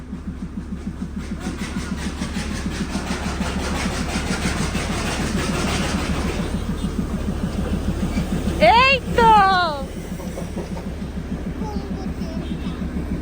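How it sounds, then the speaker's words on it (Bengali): A coal-powered Darjeeling toy train approaching, its engine chugging in a steady rapid beat with a brief whistle-like squeal midway, under people talking nearby. "আরেকটা ট্রেন আসছে, ওই দেখ।"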